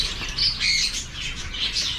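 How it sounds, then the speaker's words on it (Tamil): Exotic birds squawk and screech in cages at a bird farm, a loud, busy chorus of overlapping harsh calls repeating steadily throughout. "உள்ளேயும் நிறைய கேஜ் அடித்து நிறைய பேர்ட்ஸ் இருக்குது"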